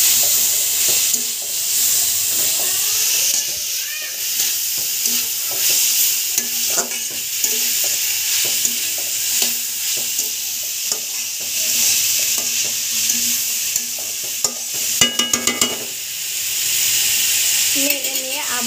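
Bitter gourd frying in a pan: a loud, continuous hiss of hot oil with frequent spatula scrapes and knocks as it is stirred, plus a quick rattling clatter near the end.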